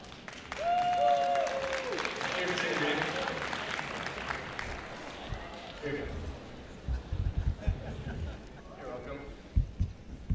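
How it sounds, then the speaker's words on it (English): Applause and cheering from students in a high school gym honoring a principal, strongest early on with squeaky sneaker tones, then dying into scattered claps, footsteps and thumps. "Give her a round of applause."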